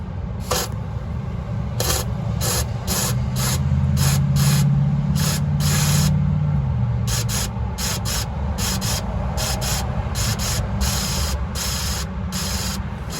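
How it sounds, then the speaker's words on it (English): Compressed air blasts through a clogged fuel line in a series of sharp, loud hissing bursts, some short and some longer, with a steady low hum beneath them. "I'll show you guys what it looks like when you blow air through this to clear it out."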